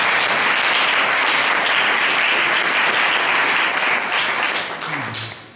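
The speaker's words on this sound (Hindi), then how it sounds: "एक बार फिर से प्रभु के सभी दासों का स्वागत करेंगे ताली बजा करके।" A church congregation at a prayer meeting breaks into sustained, dense applause that holds loud and even for several seconds before tapering off at the end.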